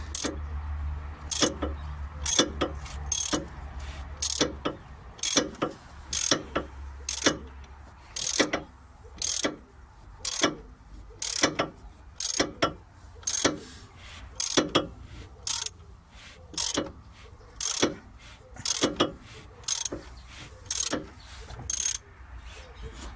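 A ratchet turns an Opel Corsa engine over by hand after a cam belt install, clicking in regular bursts of rapid pawl ticks with short pauses between strokes, close and clear.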